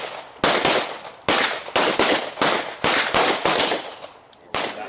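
Pistol shots ring out at a shooting range with an RDS red-dot pistol, roughly nine loud, sharp reports in quick uneven succession, each with a short reverberant tail, close to the shooter.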